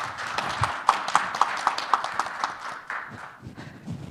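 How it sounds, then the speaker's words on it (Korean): A seminar audience at a Korean local autonomy academic conference claps to welcome a speaker: scattered, fairly sparse hand claps with a few sharp individual hits, moderately faint and thinning toward the end. "박수로 초청해 주시면 감사하겠습니다."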